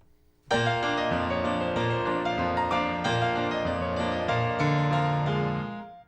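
A ragtime piece on piano played with the sustain pedal held down, so the chords ring together and blur into a continuous wash of overlapping notes for several seconds before fading.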